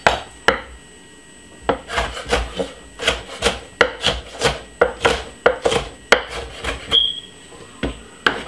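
A knife chops ginger, pepper and tomato on a cutting board in a steady series of sharp, close thwacks, roughly two per second after a short pause, with no talk.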